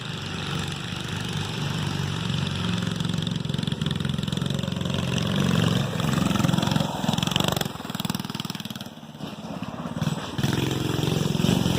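A go-kart engine runs steadily without pause, a fuel-starved idle-like drone with slight wavering and dips in level partway through, close and fairly loud with no talk over it.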